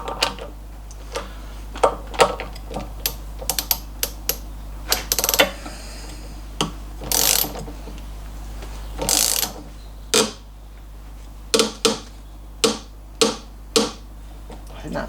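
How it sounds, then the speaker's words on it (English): Sharp metallic clicks from a spring washer and wrench as the brake bolts on an MGB are torqued down, arriving in irregular bursts and single snaps, close and crisp over a faint steady hum. "I think that's the spring washer just clicking there."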